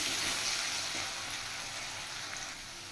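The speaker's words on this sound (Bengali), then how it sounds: "এবার আমি আলু ফ্রাই করে নেব। পরিমাণ মতো নুন আর হলুদ দিয়ে দিয়েছি।" Potatoes seasoned with salt and turmeric frying in hot oil in a home kitchen, a steady dense sizzle that holds close and fairly loud throughout, easing off slightly toward the end.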